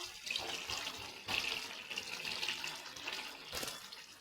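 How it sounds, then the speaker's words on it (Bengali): Water is poured into a cooking pan for a fish curry with fried eggplant, a steady close splashing stream with a few sharper bursts and no talking. "এবার আমি পরিমাণ মতন জল দিয়ে দেবো।"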